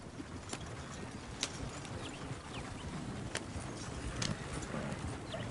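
Slow clip-clop of video game horse hooves on hard ground, a handful of soft evenly spaced steps over steady outdoor ambience, moderately distant.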